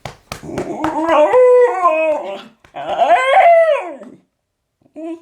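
Dog howling and whining for attention indoors, close and loud, with two long wavering howls that rise and fall in pitch, a few short yips at the start and a brief whimper at the end.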